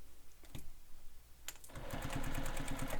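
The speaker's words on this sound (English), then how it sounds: "I'm going to sew up those lines, backstitching at start and stop" Sewing machine stitching lines on a messenger bag pocket with backstitching, a brief burst early, then a steady close rhythmic stitching run that starts midway and continues loudly to the end.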